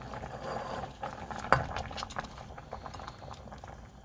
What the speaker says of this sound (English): I'm gonna put the spinach in